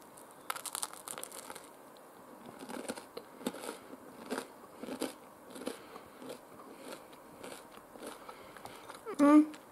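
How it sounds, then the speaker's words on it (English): Crunchy bites and chewing on a hard baked snack, repeated crackly crunches close to the mic with a bit of crinkling, a brief louder burst near the end. "Definitely a bit too crunchy."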